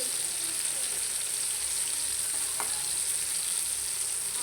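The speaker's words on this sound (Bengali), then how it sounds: "চলুন বেগুন বাজা হোক" Eggplant slices frying in oil in a pan for Bengali begun bhaja, a steady close sizzle with a brief faint clink partway through, no voices.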